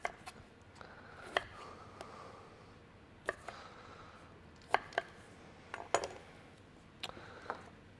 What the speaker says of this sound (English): I'm going to start by just cutting the lime into some wedges